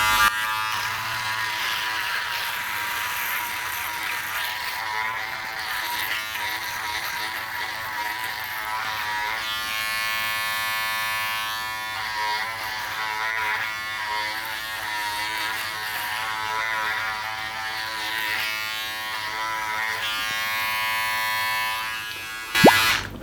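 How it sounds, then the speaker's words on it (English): A Remington F4 rotary electric shaver hums steadily while shaving under the nose, a close, continuous buzzing drone that shifts slightly in pitch as it moves over stubble, ending with a brief louder knock. "Shaving under the nose is a tricky area for rotary shavers."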